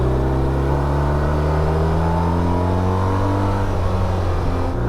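A BMW R1250 RT boxer-twin motorcycle engine drones steadily and loudly, its pitch slowly sliding down as it decelerates under engine braking, with no talking.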